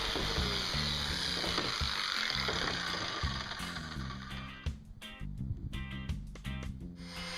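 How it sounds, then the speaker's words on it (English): A jigsaw fitted with a fast-cutting blade saws a round kayak backing plate, giving a steady rough buzzing with a rapid reciprocating chatter, near and continuous, then breaking into shorter bursts as the cut finishes. "Next up, just take my jigsaw with a fast biting blade and cut out a circle."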